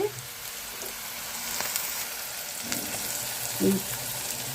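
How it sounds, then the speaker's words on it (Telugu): Onion, green chilli and peas fry in a pan with a steady close sizzle and a few soft stirring scrapes, and a faint voice is briefly present beneath. "ఉల్లిపాయ పచ్చిమిర్చి బఠానీ వేగిందండి"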